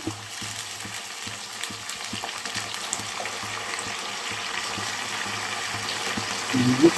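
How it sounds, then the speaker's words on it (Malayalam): Salt water poured into jackfruit cooking in a pot, a soft wet sizzle and bubbling with faint stirring taps, building slightly louder toward the end. "തന്നെ നമുക്ക് ഇത്തിരി ഉപ്പ് നീരും കൂടി ഒഴിച്ചു കൊടുക്കാം"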